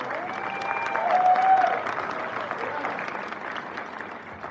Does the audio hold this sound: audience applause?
yes